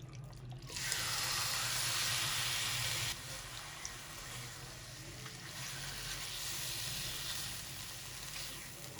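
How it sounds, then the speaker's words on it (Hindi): Marinated chicken dropped into hot oil in a kadai, a steady broadband sizzle and hiss of frying that starts abruptly and continues throughout, close and moderately loud with no talking. "अब इसमें हम अपनी मैरिनेट की हुई चिकन को शामिल कर देंगे"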